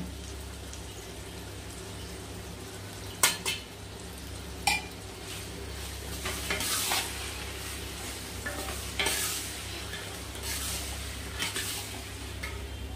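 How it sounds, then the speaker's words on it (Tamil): A citron pickle mixture being stirred in an oily pan, with intermittent scraping and clattering strokes over a low steady hum and a faint background sizzle. "கிண்டி விடுங்க கொஞ்சம் நேரம் கிண்டி விடுங்க"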